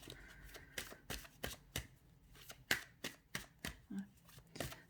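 Tarot cards are shuffled for a general reading in a run of quick riffling bursts, about a dozen soft crisp flurries close by and quiet.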